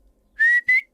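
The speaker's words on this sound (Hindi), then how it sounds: "साले मुझे देख के सीटी मारता है" A person whistles two short, sharp rising notes close by, a quick two-part catcall whistle with silence before and after.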